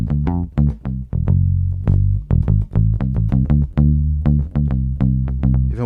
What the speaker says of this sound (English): I really love the pick palm mute thing.